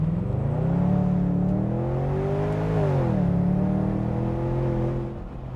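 BMW 650Ci launched in sport mode, its engine rising in a strong revving pitch, dipping briefly at a shift, then climbing again, loud and close with no talk.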